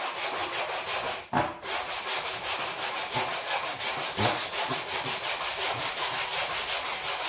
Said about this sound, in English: Remember to keep breathing whenever you're sawing